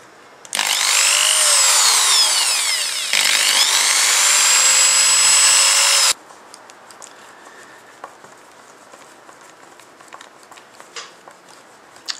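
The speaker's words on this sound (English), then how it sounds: "I need to hold that neck pickup in place while I drill out the 4 holes" A loud, high-pitched power drill whines in two bursts, drilling holes in a guitar body for a pickup, briefly pausing between, then stops, leaving faint handling clicks and taps.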